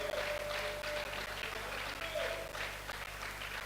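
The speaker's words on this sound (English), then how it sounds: "A round of applause for him." An audience at a business summit gives sustained applause, fairly faint and distant-sounding over a low steady hum of the room.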